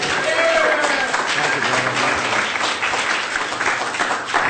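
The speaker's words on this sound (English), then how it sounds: "please give him a warm round of applause" A full room at a 2009 wellness expo in Fort Bragg applauds to welcome a speaker, loud continuous clapping with some crowd voices mixed in.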